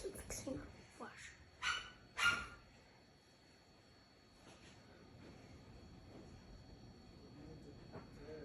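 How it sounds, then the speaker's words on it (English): A caged dog gives a few sharp barks and yips early on, then falls quiet under a steady background hum. "There's a dog in there"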